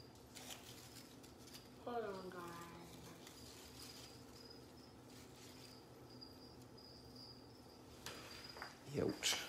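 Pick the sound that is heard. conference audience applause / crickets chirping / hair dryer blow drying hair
crickets chirping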